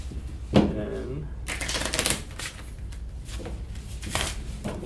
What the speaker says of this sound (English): And then we'll shuffle the ration deck.